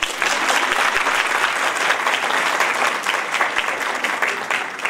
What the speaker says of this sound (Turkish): Aycan hocanıza koca bir alkış